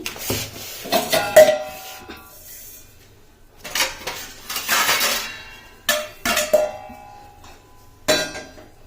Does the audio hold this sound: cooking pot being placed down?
yes